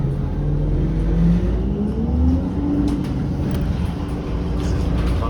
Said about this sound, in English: Now we're riding Kennedy-Scarborough Centre Express